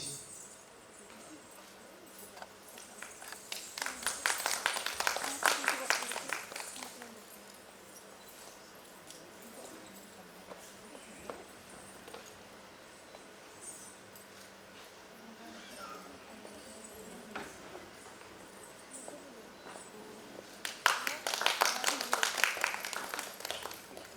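At a dance festival guest felicitation ceremony, an audience claps in two separate bursts, each swelling and fading, with quiet room sound and occasional faint noises between them.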